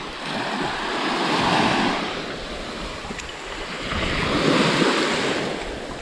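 Sea waves roll and break on Sikia Beach in Greece, a steady surf wash that swells and fades in two broad surges, with wind buffeting the microphone throughout.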